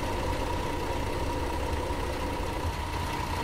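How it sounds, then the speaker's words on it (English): A coach bus engine idles steadily in the Fernbus Simulator driving game, a constant low rumble with a faint whine running throughout, close and moderately loud, with no talk. "Keep the engine running as it's cold."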